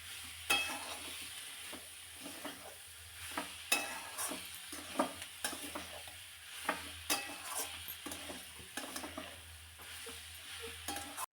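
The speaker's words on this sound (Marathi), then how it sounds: "आता हे परतून घेतल्यानंतर यामध्ये चिरून ठेवलेली मेथी घालायची" Chopped fenugreek leaves being stir-fried in a pan, with a steady low sizzle under repeated scraping and stirring strokes that come at an irregular rhythm throughout, close and fairly quiet.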